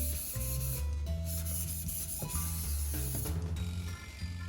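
A knife blade is drawn lightly across a sharpening stone to flatten the burr, giving a steady scraping rub in repeated strokes, close and clear with no talking.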